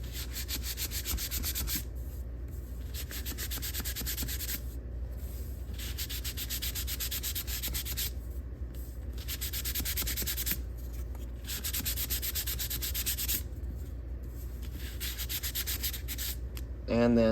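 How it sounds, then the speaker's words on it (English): By hand, a wooden part of an Estes Orange Bullet model rocket is lightly sanded along the grain with 220-grit sandpaper and no block: steady scratchy strokes in repeated runs, each a couple of seconds long, separated by short pauses, soft and close. "I like to come back over with some 220. And again, with the grain, just another light sanding."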